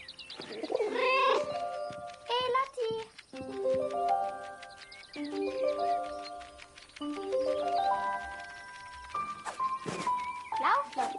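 A cat meows in the video game 11-11 Memories Retold, several meows in a row laid over a tonal music score, moderately loud and close.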